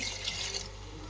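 Steady splashing of rice-soaking water poured into a cooking pot for chicken biryani, a continuous hissy rush at close range with no voices.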